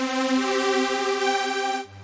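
A bright, buzzy Serum synth riser preset holds a sustained chord for under two seconds, then cuts off abruptly, leaving a low hum.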